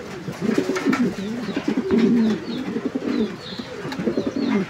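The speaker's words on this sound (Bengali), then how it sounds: "আর এই মুহূর্তে নরটার ডাক দেখেন আপনারা, ভরপুর ডাকের একটা নর।" A male pigeon of a fancy breed on a loft farm gives repeated full-throated coos in rolling, throaty phrases, close and loud, with faint chirps from other birds behind.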